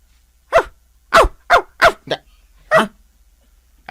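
A dog barks six times in short, loud bursts with brief pauses between, alone against a quiet background.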